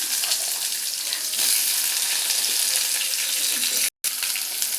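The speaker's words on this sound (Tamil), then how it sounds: "அது எல்லாத்தையும் சேர்த்து நல்லா ஓரளவு பொன்னிறமாக வர வரைக்கும் நல்லா வதக்கி விட்டுக்கணும்." Dried red chili, garlic cloves and onion sauté in hot oil in a pan, giving a steady close sizzle with watery hiss throughout and a brief dropout near the end.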